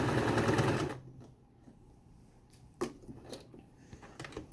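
A sewing machine stitches fabric along a seam while making a mask. It runs in a loud, close, whirring burst for about a second, then stops, leaving faint small clicks and handling noises.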